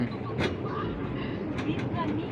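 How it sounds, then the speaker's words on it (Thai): A tram climbing the hill up to Wat Khao Sukim temple gives a steady loud rumble with a few rattling knocks, with people talking over it. "รถรางรถรางขึ้นดอย วัดเขาสุกิม"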